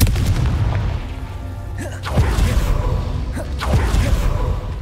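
Fire spell Confringo explodes in Hogwarts Legacy with repeated deep booms and whooshing bursts, several close impacts a second or so apart over a rumbling game background.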